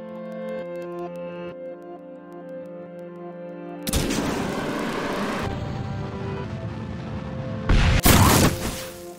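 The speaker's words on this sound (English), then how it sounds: "they decided to destroy it with the missiles and Pathfinder's payload bay." Missiles exploding on a spacecraft in the video game Kerbal Space Program: after a quiet tonal stretch, a loud broad blast rumbles for about a second and a half, then a second sharper burst follows near the end.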